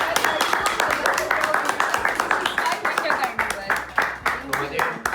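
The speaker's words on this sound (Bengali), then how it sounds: "হ্যাঁ একটু হাততালি রাখো।" A group of people clapping their hands in steady rhythmic applause at a lucky draw prize presentation, many sharp claps repeating close together throughout, with talking over it.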